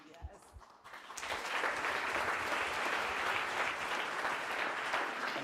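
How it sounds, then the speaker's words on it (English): Applause for debate teams at a school friendship debate swells after a quiet second into sustained, dense clapping from a sizeable audience that holds steady to the end. "I think both of their teams deserve a big round of applause again"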